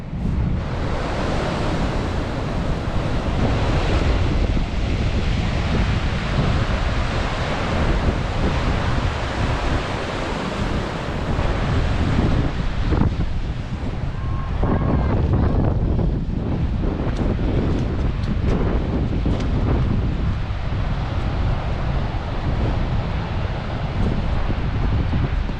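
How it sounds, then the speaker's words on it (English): Choppy sea waves break along the coast at Constantine Bay, a loud continuous surf roar mixed with heavy wind buffeting on the microphone, with no voices. "Just approaching Constantine Bay. It's very choppy sea again today."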